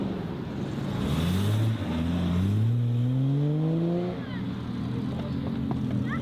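A Porsche GT3 sports car engine revs hard, its pitch rising through several climbing sweeps before easing off, loud and fairly close, with faint background chatter.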